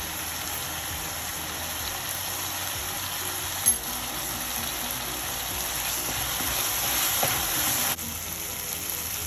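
Vada curry masala with turmeric sautés in a pan, giving a quiet, steady sizzle of frying with a faint stir clink partway through and no voices.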